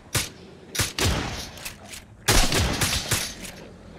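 Gunshots in the survival game Miscreated, near Pinecrest: sharp, loud single reports spaced irregularly, then a quicker cluster of several shots with echoing tails.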